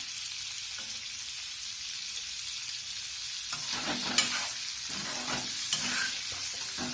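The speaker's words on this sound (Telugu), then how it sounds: "నేను బటర్లో ఫ్రై చేస్తున్నాను, కొంచెం బ్రౌన్ షేడ్ వచ్చేటట్టుగా" Paneer cubes fry in butter in a pan, giving a steady close sizzle with occasional soft scrapes and pops as the pieces are stirred and turned, no talking.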